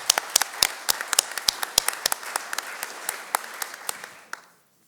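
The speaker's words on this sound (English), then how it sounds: "I think, a round of applause, please." An award ceremony audience applauds, a run of sharp, clear individual claps over a softer bed of clapping that thins out and stops abruptly near the end.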